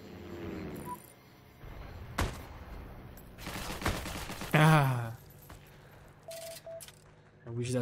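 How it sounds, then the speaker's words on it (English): M1 Garand rifle gunfire in Heroes and Generals during a battle for an airfield, a few sharp cracks spread across the clip amid other battle noise, with a voice talking over parts of it. "That shot, there was a headshot."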